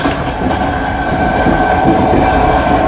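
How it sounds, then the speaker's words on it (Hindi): Steady rumble and rattle inside an old passenger train riding through Uzbekistan, with continuous wheel noise and faint clickety-clack from the rails, loud and close with no talking. "तो बेसिकली ये पुरानी ट्रेन है, लेकिन फिर भी यार साफ़ सुथरी तो है"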